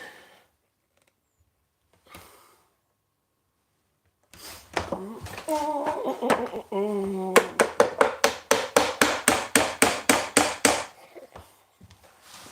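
Hammering nails into a wooden tote in a workshop: a rapid, steady run of sharp, loud strikes after some talk, near and clear.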